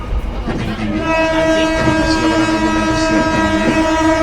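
A double-traction BB 203 locomotive train sounds a long sustained horn chord, loud and close, over rumbling rail noise, with muffled voices briefly at the start.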